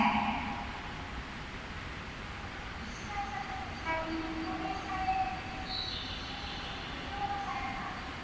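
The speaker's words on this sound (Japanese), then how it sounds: "電車が参ります。" A Nagoya Municipal Subway Tsurumai Line N3000-series train pulls into Yagoto station, a low steady rumble of wheels and motors under faint platform chimes and announcement tones, moderately distant.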